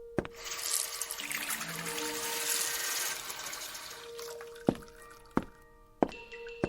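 Water poured onto wisteria flowers, a steady splashing, trickling stream that runs for several seconds, then a few distinct knocks and drips as the pouring stops.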